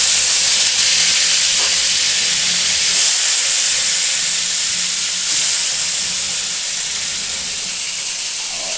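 Pork frying in a pan gives a loud, steady hiss that fills the clip without a break, with faint clinks now and then underneath.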